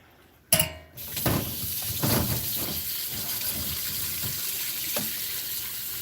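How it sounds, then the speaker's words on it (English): Tap water runs steadily into a sink after a brief clunk, a constant rushing splash with small knocks and clatters now and then. "I'm just going to put these in the sink and run some water over them"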